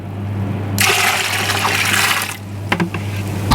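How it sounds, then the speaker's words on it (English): Water pours in a steady rushing stream into a large pizza dough mixer, loud and continuous for about two seconds before tapering into a few splashes and drips, over a low machine hum. "Now let's put 3/4 of the water."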